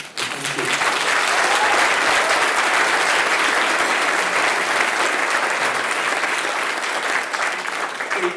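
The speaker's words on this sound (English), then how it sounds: "I thank you for the applause" Steady, dense audience applause fills a summer benefit gala hall, loud and sustained throughout with no break, fading slightly at the very end.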